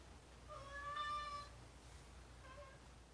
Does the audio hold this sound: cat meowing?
yes